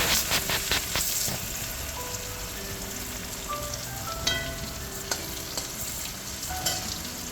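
Potatoes tossed with turmeric and salt frying in a wok, a steady close sizzle with occasional scraping stirs and a few sharp clinks, no voices.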